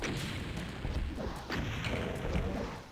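Rockets fired at a Revenant in Doom II, a series of dull booming blasts and rumbling impacts layered into a dense, continuous roar at moderate volume, with no voices.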